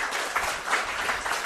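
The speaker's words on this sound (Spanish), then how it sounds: "Un aplauso para él." Audience applause in a television studio, a short burst of moderate clapping from a small crowd, steady and somewhat muffled.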